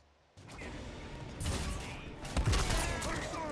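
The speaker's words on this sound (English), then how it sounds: "There's the gunshots." Rapid bursts of gunfire and crashes from a video game, loud and busy, with a rising intensity and a heavy impact near the middle.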